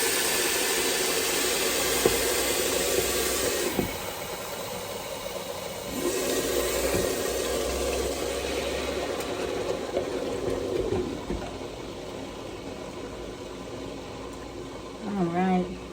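Water boiling under a lid in a covered pot of rice on a stovetop, a steady low rumbling bubble and hiss running continuously and fairly close, with a brief clink near the end.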